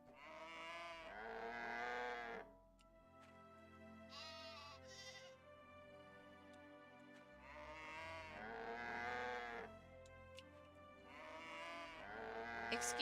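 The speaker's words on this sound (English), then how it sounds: "I'm trying to pet the sheep" Sheep in the farming video game My Time At Portia bleat loudly and close, several drawn-out calls in bursts, with quieter tonal game sounds between them.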